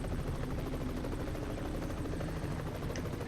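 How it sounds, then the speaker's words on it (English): A helicopter in the truck-driving game Euro Truck Simulator 2 hovers nearby with a steady, dense rotor chop and engine drone, holding at a constant loud level throughout. "oh, this chopper's there,"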